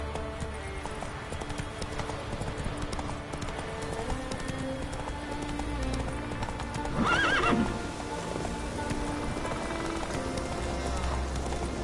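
Roach, the horse in The Witcher 3 video game, gallops with steady clip-clopping hooves and gives a short whinny midway, set against ambient game music and possible rain.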